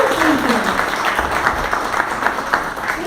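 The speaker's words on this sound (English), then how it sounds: "We want to give them a round of applause." Audience applauding the food sponsors at a Farming 4 All community gathering in Eustis, a steady wash of many hands clapping throughout, moderately loud, with a faint voice briefly audible underneath near the start.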